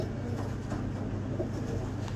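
A pigeon coos softly and steadily in a loft against a dense, constant background hum. Nobody speaks.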